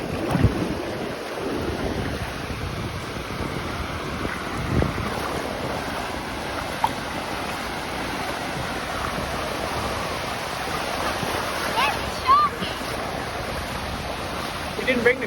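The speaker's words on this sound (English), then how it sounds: "Look at the waves." Ocean waves wash and break at Woolacombe Beach under heavy wind noise, a steady broadband roar with occasional faint voices.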